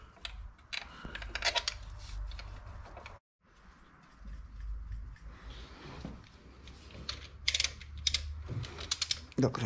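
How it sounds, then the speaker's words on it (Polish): Ratchet wrench tightening the belt tensioner bolts on a VW 1.4 TSI engine, rapid close clicking pawl bursts repeated in several runs with a brief pause between them. "Dokręcamy kluczem."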